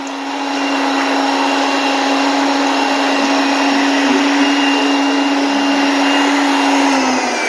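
Air blows hard and continuously from a small pinched nozzle on a reversed tube in a classroom demonstration, a loud steady whooshing hiss with a constant tonal whine lasting several seconds.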